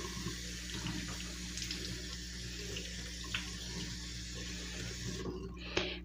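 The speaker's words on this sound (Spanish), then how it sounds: "Van a lavar muy bien sus manos con agüita y jabón." Tap water runs steadily into a sink while hands are washed with soap, a close, continuous splashing hiss with a few small knocks and a brief change near the end.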